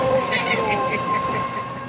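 A passenger train rolls along on a long journey, its steady rumble and rhythmic wheel clatter close and continuous, with a faint squeal above it.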